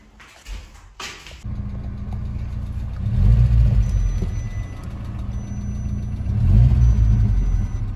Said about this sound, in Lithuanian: Girdot, kaip kal variklis?